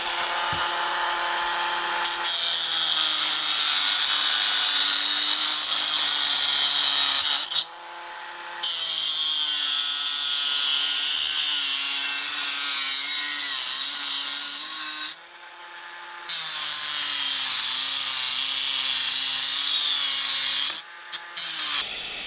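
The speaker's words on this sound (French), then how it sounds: "Et là, je vais couper les garde-boue." A power tool cuts motorcycle mudguards in a workshop with a loud, sustained grinding whine that stops briefly twice before starting again.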